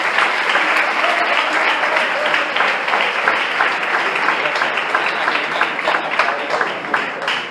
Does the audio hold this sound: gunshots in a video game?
no